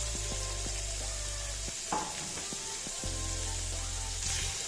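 Bacon frying in hot oil for homemade lasagna, a continuous bright sizzle with brief stirring clatters, close and steady throughout.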